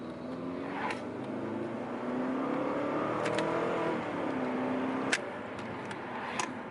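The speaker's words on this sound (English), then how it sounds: "this is going to be a second gear pull" Stage 1 Subaru Legacy GT pulling hard in second gear, engine note climbing steadily in pitch from inside the cabin, with a couple of sharp clicks along the way.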